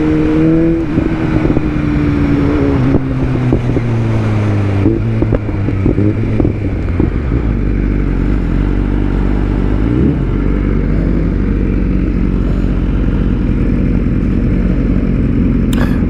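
A 2023 BMW S 1000 RR superbike rides past at close range. Its engine rumbles and revs, the pitch sliding through a few gear changes before it settles into a steady, loud drone. Wind buffets the mic and no one talks.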